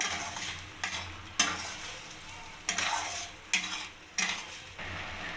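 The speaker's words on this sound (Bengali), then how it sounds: "ভালোভাবে কষিয়ে নেব" Ground spices sizzle in a pan while a utensil scrapes and stirs in repeated strokes, roughly every second, close and fairly quiet.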